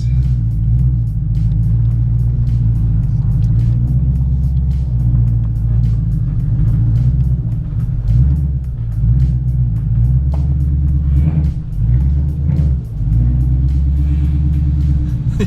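A Ford GT with a faulty exhaust rumbles loudly as it creeps into a workshop, deep uneven low burble with brief throttle swells and a few light clanks, close to the listener.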